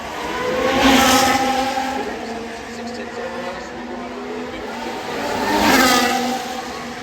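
A Formula 1 race car at the Singapore Grand Prix screams past twice, high-revving engine swelling loud then fading, with a commentator talking over the steady engine drone between passes.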